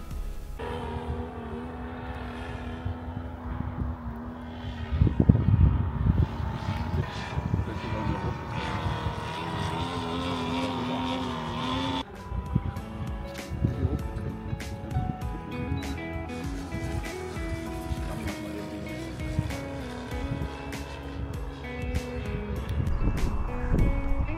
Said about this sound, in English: Some experts might already recognize the engine is not running smoothly